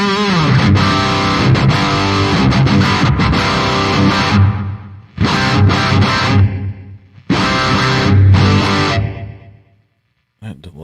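Distorted electric guitar runs through a Boss Gigcaster 5 delay effect in three loud strummed phrases, each ending in a trailing echo tail that fades into silence.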